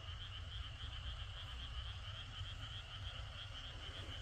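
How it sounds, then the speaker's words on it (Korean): A dense chorus of frogs croaks all around a farm field at night, a steady continuous trilling with low rumble beneath and no talk. "지금 주변에는 개구리 울음 소리가 엄청나게 들리죠?"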